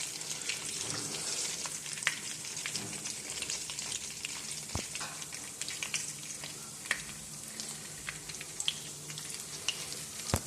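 Fish frying in a pan, a steady close crackle and sizzle with occasional louder pops, continuous and alone without talking.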